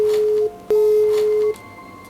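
An outgoing phone call is placed, and the line answers with loud, steady electronic tones: one short beep, a brief gap, then a longer one, heard alone.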